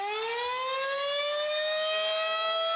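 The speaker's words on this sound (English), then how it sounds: "That sound is all it takes to make you get somewhere safe in a storm or tornado." A Dane County outdoor tornado warning siren wails steadily, its rising harmonic tone sustained and loud throughout with no voices.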